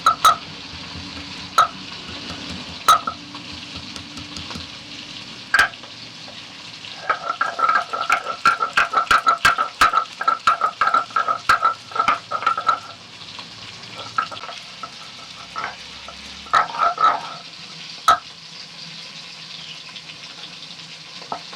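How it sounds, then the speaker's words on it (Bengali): Pieces of pangas fish fry in oil, giving a loud, close sizzle broken by sharp spitting pops that cluster into rapid bursts midway, then thin out to sporadic crackles. "মাছগুলো ভাজা হয়ে গেছে, তুলে নিচ্ছি।"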